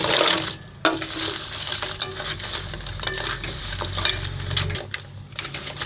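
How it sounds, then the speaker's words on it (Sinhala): A spoon scrapes and clinks against a pot while dough pieces are stirred into thick syrup that sloshes, with irregular stirring sounds close by. "මේ විදිහට වතුර මොලොක්කු ටික දාලා හොඳින් කවලම් කරන්න ඕන"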